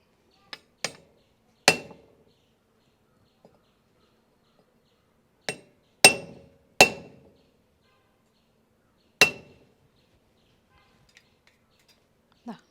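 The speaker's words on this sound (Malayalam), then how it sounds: "ഞാൻ എന്താ ഉളിയും ചുറ്റിക്കയും വെച്ചിട്ട് ഇത് കട്ട് ചെയ്തെടുക്കാൻ പോവുകയാണ് കേട്ടോ" A hammer drives a chisel to cut material for a broom, giving sharp, ringing metallic strikes, loud and close, spaced irregularly in small clusters with quiet gaps and faint ticks between them.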